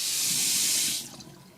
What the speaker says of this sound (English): ASMR of water running